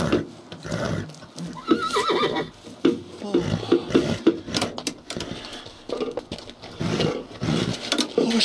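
A horse neighs and snorts nearby, with hoof clip-clops and a person speaking softly in between.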